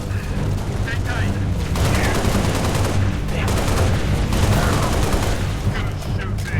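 Rapid bursts of automatic gunfire and heavy booms from the video game Halo Reach, loud and dense throughout, with rhythmic firing that stops and resumes several times over a steady rumbling background.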